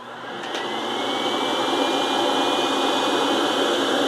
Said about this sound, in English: So, got the vacuum extractor. Go ahead and turn that on.